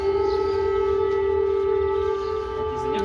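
An air raid siren wails in Azov, holding a steady, sustained tone at moderate distance with a low rumble of background noise beneath it.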